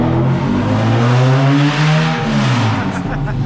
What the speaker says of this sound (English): Open header on the dyno.